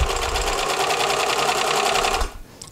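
Sewing machine stitching dress fabric in a fast, even mechanical whir with rapid needle clatter, close and loud, running steadily then stopping abruptly near the end.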